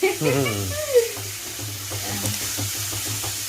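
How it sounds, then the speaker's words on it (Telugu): Wet chopped tomatoes frying in a pan give off a steady hiss and sizzle, close and continuous, with a voice talking over it at the start. "ఇది తడింది కాబట్టి ఇట్లా సుయ్యి సుయ్యి అంటానే ఉంటాయి, మాట వినపడవండి"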